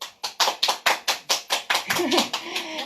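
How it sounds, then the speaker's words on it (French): A few people clap loudly and close by during a live-streamed dance session, about a dozen crisp, evenly spaced claps that run together near the end, where a voice speaks over them. "je les applaudis."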